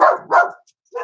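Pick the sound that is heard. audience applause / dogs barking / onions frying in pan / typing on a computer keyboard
dogs barking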